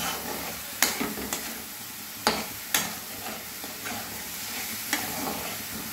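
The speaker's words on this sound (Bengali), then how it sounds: "এই সময় আমি টমেটো ক্যাপসিকাম আর অল্প একটু আলু দিয়ে দিলাম এবার ভালোভাবে আমি একটু কষে নেব" Chicken with tomato, capsicum and a little potato being stir-fried in a pan, a steady sizzle broken by several sharp scrapes and clacks of a spatula, close and continuous, no voices.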